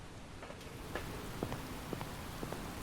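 Steady rain in the video game Phasmophobia hisses evenly, with occasional soft drops and taps standing out against the constant wash.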